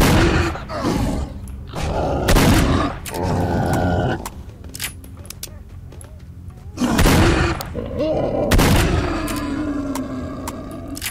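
Combat in S.T.A.L.K.E.R. Shadow of Chernobyl, with loud, heavy gunshots and thuds arriving in irregular bursts, separated by quieter gaps with lingering rumble.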